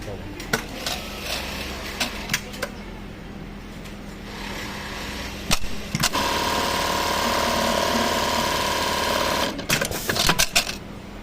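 A Brother RH-8920 industrial buttonhole sewing machine with a thread-trimming problem: clicks and clunks, then a loud steady mechanical whir for several seconds ending in sharp trimming snaps, with a person talking.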